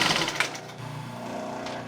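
A sewing machine stitches fabric for a garment with darts and bias binding, a steady close mechanical whir with a quick rattling start, running alone without talk.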